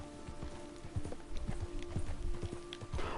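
Horse hooves clip-clop steadily along in Red Dead Redemption 2 as Arthur rides through the countryside, a continuous trotting rhythm close up over a bed of game music and ambient noise.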